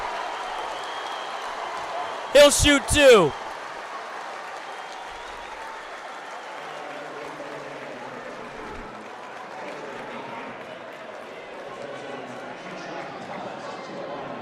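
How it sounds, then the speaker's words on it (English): Crowd noise at a boys' high school sectional championship basketball game, Normal Community versus Quincy, fills the gym under steady play-by-play commentary, with a brief burst of sharp squeaks and whistles near the start. "The crowd is erupting at the moment."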